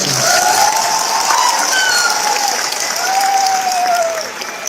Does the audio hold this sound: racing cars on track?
no